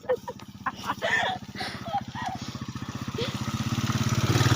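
A motorcycle engine runs steadily at close range on a muddy, waterlogged road, with a fast, even pulse that builds louder toward the end while someone talks over it.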